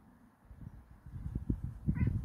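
A cat meows close by in a short, soft call near the end, following a stretch of low rustling and thumping movement nearby.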